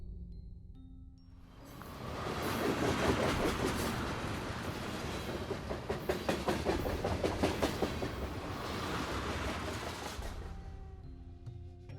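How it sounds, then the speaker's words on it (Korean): A train rumbles past on the tracks with a rhythmic clickety-clack of wheels, swelling loud and close before fading away. "굉음과 함께 열차가 현서의 등을 스치듯 지나쳤다"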